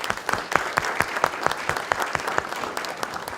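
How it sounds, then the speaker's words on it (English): An audience at a city's State of the City event claps for a few seconds, steady scattered claps of moderate loudness heard on their own. "give one more big round of applause for Marsha Rains"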